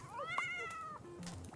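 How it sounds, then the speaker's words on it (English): A cat meows in a video game set in a tranquil tea-shop world, a single drawn-out rising and falling meow, clear and fairly close, followed by soft game chimes. "Is that a cat?"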